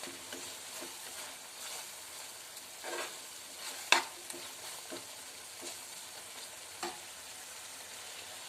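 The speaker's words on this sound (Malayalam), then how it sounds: "ഇത് അടി പിടിക്കാതെ ഇളക്കി കൊടുക്കണം കേട്ടോ" A spoon stirs cooked-down tomato masala for chicken curry in a pot, soft scraping strokes over a quiet, steady sizzle, with one sharper knock against the pot partway through.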